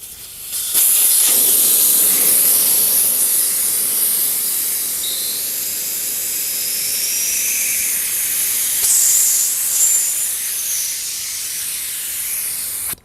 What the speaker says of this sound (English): It's kind of hard to hear with the air blowing out of the tire.